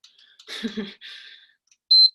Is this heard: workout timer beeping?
yes